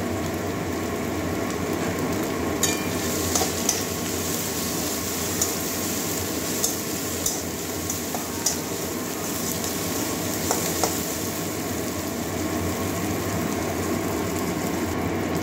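Slit green chillies frying in hot oil in a pan while cooking a Bengali rohu fish curry with kalmi greens, a steady close sizzle and crackle with small scattered pops and clinks.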